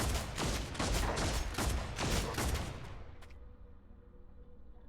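Gunfire rattles in the video game Deathwatch: Tyranid Invasion, rapid loud bursts of shots for about three seconds, then fading into a quiet tail with one last faint crack.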